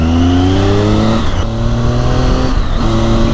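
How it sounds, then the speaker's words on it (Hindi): A Triumph Tiger 800 motorcycle engine revs hard in a low gear on a mountain road, a loud, close, sustained whine rising in pitch, briefly dipping twice as it shifts, then climbing again. "हल्के से शॉर्ट गियर में जब रेव करते हैं"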